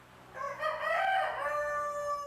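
A single white Langshan rooster crow rings out, a drawn-out cock-a-doodle-doo of moderate loudness rising and then fading, with no other sounds around it.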